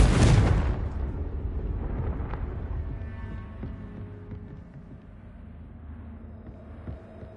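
A Confringo spell in Hogwarts Legacy goes off with a loud, sharp fiery blast at the start, then a long rumbling decay and crackling debris settling for several seconds, with a small thud near the end.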